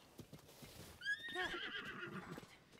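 A horse in The Legend of Zelda: Tears of the Kingdom whinnies loudly in a quivering, descending neigh, following a few scattered hoof clops.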